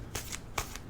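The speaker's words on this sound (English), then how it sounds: "So I'm going to be shuffling here." An oracle card deck being shuffled close by, two quick riffling bursts of papery flutter within a second, soft and alone.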